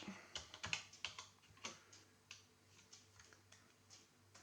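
Irregular clicks and taps on a Tandy TRS-80 Color Computer 2 keyboard, close and fairly quiet, in uneven bursts with short pauses, no voices.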